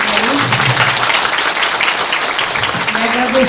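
A crowd at an event in Porto Alegre breaks into loud, continuous applause, dense clapping held steady throughout, with faint voices underneath.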